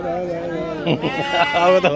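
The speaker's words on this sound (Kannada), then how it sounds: "ಮರಿ ಕುರಿ" A lamb bleats among sheep and goats at a livestock market in Harihar, Karnataka, with wavering cries close by while a voice speaks over it.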